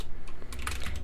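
Close, quick keystrokes on a computer keyboard, several rapid clicks typed in about a second while coding in Roblox Studio.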